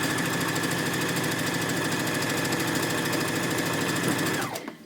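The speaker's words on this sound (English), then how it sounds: "I'm going to continue along the strip sewing these in the same manner until row 1 and row 2 are together" A sewing machine runs steadily and loudly at close range as it joins quilt strips, its needle rattling in a fast even rhythm before it winds down and stops at the end.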